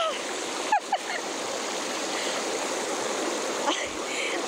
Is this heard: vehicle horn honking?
no